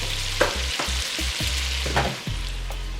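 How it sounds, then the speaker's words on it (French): Meat searing in a hot pan on a home stove, a loud continuous sizzle broken by several quick scrapes and stirs, heard up close with no talking. "Donc là, en gros, on saisit la viande à 8."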